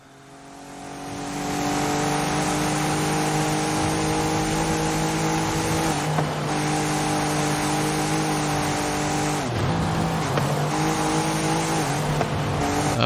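A race car in a racing video game holds a steady, loud high-revving engine drone with brief dips at gear changes or braking and faint tire noise, continuous and close throughout, with no voices.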